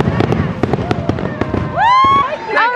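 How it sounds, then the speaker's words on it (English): Fireworks at Disneyland, a run of sharp pops and bursts crackling over and over, with excited voices and whoops from people nearby through the display. "We haven't seen fireworks here in so long."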